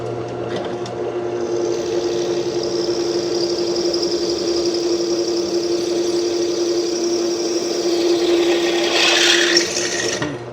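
A bench drill press with a CVT torque converter runs steadily at about 700-800 RPM, a continuous whirring drone with a faint grinding edge, loud and close.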